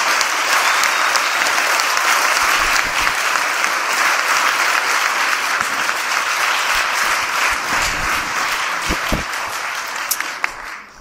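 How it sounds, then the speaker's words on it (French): A theatre audience at a sketch performance claps loudly and continuously, a dense sustained wash of applause that thins and fades only at the very end. "Je les applaudis."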